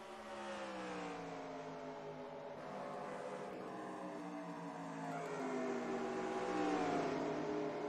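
Several engines drone and rev together in a steady, dense wash, pitches sliding up and down as they accelerate, with no speech.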